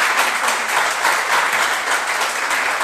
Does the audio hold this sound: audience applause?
yes